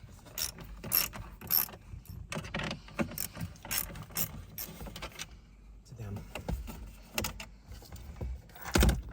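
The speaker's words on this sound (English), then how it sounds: "And now we need to remove these 2 7mm screws." Small 7mm screws are backed out of an interior panel on a 2019 Ford Expedition, giving close, quiet ratcheting clicks in short bursts, with brief handling noises between them.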